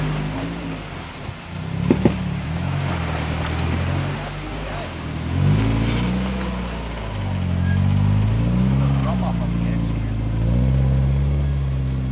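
Several 4x4 vehicles crawl one after another over an eroding, crumbling sandy bush track near Lithgow, NSW, their engines a low, steady, revving rumble with rising and falling pitch, a couple of sharp knocks early on, and faint voices in the background.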